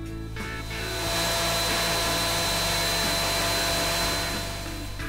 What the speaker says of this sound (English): I pass the boards through the thicknesser until the flip side is completely flat and parallel